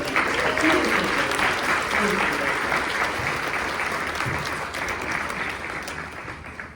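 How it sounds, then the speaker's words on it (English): Audience applause at a teacher preparation pinning ceremony fills the room as a dense, sustained clapping that slowly tapers, with talking heard beneath it. "can we give Dr. Gills another round of applause?"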